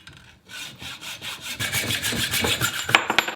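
A hand saw cuts through a bicycle fork's steer tube with steady back-and-forth strokes, close and loud, speeding up and ending with a few sharp final strokes.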